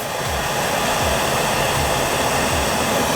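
A Nortel Minor glassblowing torch turned up high gives a loud, steady broadband roar with a faint low rhythmic pulsing, close and continuous, with no talk.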